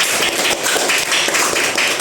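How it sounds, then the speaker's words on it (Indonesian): A classroom of students applauds together, a dense, close burst of quick hand claps that stays even and loud for a couple of seconds. "tepuk tangan untuk kita semua"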